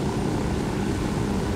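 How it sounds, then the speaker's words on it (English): A helicopter in Ghost Recon Wildlands flies overhead with a steady, dense rotor-and-engine drone that stays loud and unbroken throughout, with no voices. "Raise the helicopter first."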